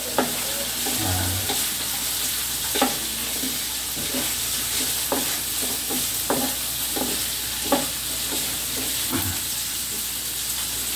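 Whole garlic cloves sizzle in hot oil for a bamboo-shoot dry atchara with ginger, a steady hiss broken by repeated scraping stirs from two ladles; a voice speaks one brief word.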